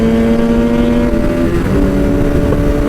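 A superbike engine revs loudly during a race, giving a close, steady, high-pitched drone whose pitch dips partway through and then holds, with no voices heard over it.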